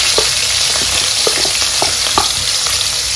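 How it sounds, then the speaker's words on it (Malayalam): Green chili, garlic, ginger and onion sautéing in a pan for a sardine and tapioca dish, loud and close, with continuous sizzling broken by repeated scraping stir strokes and no voices. "എല്ലാം കൂടി വഴറ്റും."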